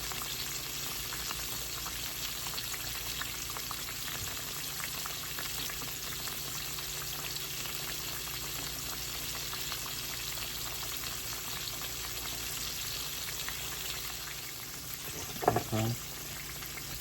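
Mustard-coated pork chops fry in a pan with a steady, even sizzle throughout, joined near the end by a brief clatter of handling.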